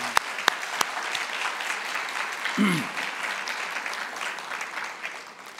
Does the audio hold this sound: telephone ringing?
no